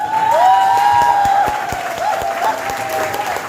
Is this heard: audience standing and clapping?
yes